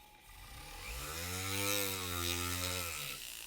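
A rotary tool polishes the feed ramp of a 1911-style pistol with 500-grit abrasive, a quiet high motor whine that rises in pitch and holds steady before winding down, with no talking.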